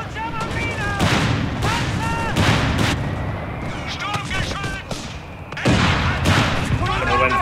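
Anti-tank gun and artillery fire in the World War II strategy game Company of Heroes 3, with repeated loud booms and bursts of gunfire, mixed with game voice lines and layered battle effects throughout.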